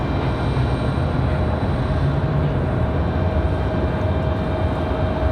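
A Southwest airliner at Raleigh-Durham airport, heard far off as a steady, broad engine roar with no breaks.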